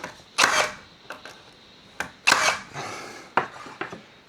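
Nails, 50mm long, hammered into timber stud framing during a verandah rebuild on an old Queenslander house; several sharp separate hammer blows with short gaps between them, close and fairly loud.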